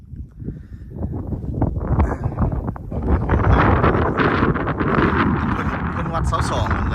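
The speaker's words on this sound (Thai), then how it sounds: "เทิงนี่ลมแห้ง" Strong wind on the summit of Hua Lon mountain buffets the microphone with loud gusting roar and rustle, building after a quieter start, while someone speaks over it.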